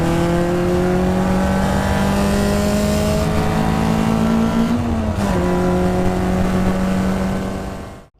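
A car on a track day is recorded with an external mic: a loud, close engine revs steadily upward through the gears, with a brief dip at a shift and a rising whine, then cuts off abruptly at the end.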